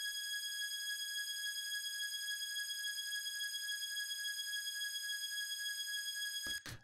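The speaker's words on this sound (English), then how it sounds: "Is basically a sawtooth, really high pitched, nothing else." High-pitched sawtooth synth string pad: a thin, steady sustained buzzy tone held evenly for several seconds, quiet and alone, cut off by a brief click at the end.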